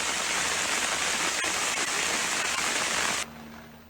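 Heavy rain pours in Haridwar, Uttarakhand, a dense, loud, continuous hiss of drops striking surfaces that cuts off abruptly near the end, leaving a low hum.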